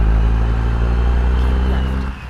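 Peterbilt truck with a tuned 800HP CAT C16 and 8-inch straight pipes roars steadily under load, a loud deep continuous drone that drops off near the end.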